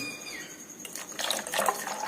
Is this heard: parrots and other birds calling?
no